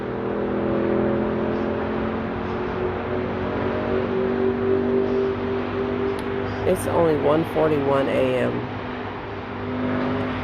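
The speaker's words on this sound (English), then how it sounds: "All this traffic." Late-night road traffic around 1:40 a.m., with cars passing fairly fast as a steady engine hum and whir under a person talking.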